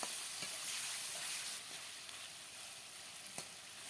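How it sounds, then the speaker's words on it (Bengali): Small fish frying in hot spiced oil in a pan while being stirred, a continuous bright sizzle with occasional scraping stir clicks, close and fairly soft, no voices. "এবার দিয়ে দেব কুচে মাছ। এবার ভালো করে মিশিয়ে নেব।"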